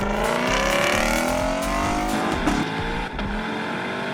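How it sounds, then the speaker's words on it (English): Lexus LC500 with a naturally aspirated 5.0-liter V8 making 471 horsepower, tuned by Yamaha, revving loud and close in a sharp, high-pitched rising scream with a brief dip near the end. "A razor-sharp, high-revving scream, tuned by Yamaha's music division."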